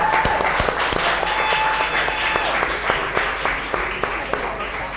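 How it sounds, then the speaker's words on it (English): An audience at a live chef cooking showdown claps and cheers steadily for a competitor, a sustained crowd applause with a voice speaking over it. "Let's give him a big round of applause."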